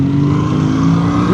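A BMW R1300 GS Adventure motorcycle pulls hard in first gear, its engine a loud, steady, close drone with a slight rise in pitch near the end, heard alone without talk.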